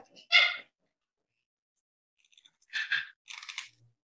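A dog in the room barks, with one sharp bark followed after a pause by a couple more short barks, heard close and fairly clear against a quiet background.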